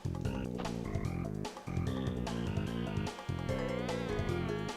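Swarming bees drone in Crash Bandicoot 2 as a loud buzzing under game music.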